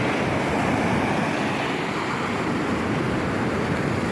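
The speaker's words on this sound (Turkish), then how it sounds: "Bayağı bulanık gördüğünüz gibi deniz patlar." Rough sea surges against the Mersin shore in a continuous loud wash of surf mixed with wind rumble, with no voices.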